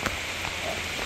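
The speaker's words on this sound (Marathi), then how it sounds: "अशा प्रकारे पाऊस आला आहे." Rain falling steadily during a trek to Karnala Fort, a close, even patter of drops on surfaces with a few sharper splashes, brief and unbroken, no voices.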